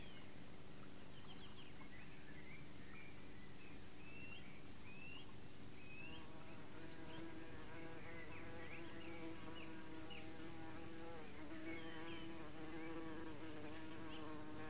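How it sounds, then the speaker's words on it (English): Early bumblebee buzzing near its nest, a steady insect drone that swells in the second half, with faint bird calls in the background. "The first to begin nesting is the early humblebee."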